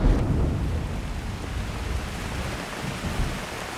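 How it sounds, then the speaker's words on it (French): Heavy rain returns over an island survival camp, a dense, continuous roar of downpour with a low rumbling undertone, loud and steady throughout. "Effectivement, la pluie revient."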